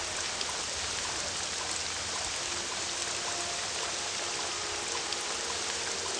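Steady rain pattering onto water in the 2002 video game Morrowind, a continuous even hiss of drops with no pauses, moderately loud and alone without any voices.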